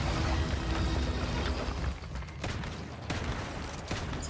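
Gunfire in the video game Once Human, aimed at an enemy's shoulder: a dense, loud burst of rapid shots filling the first two seconds, then scattered sharper reports over a steady low rumble of game noise.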